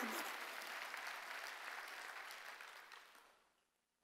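Church congregation applauding during a Sunday worship service, a dense, steady wash of clapping that swells and then fades out toward the end.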